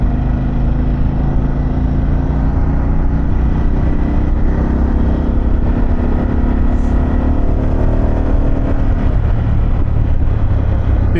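A Harley-Davidson Pan America with an Akrapovic exhaust rumbles loud and close, its engine steady and throaty throughout with a slight rise in pitch near the end.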